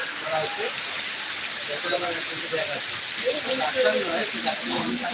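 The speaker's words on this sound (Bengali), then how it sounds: "খুব বৃষ্টি পড়ছে" Heavy rain pours down in a steady, dense hiss, with voices talking faintly beneath the downpour.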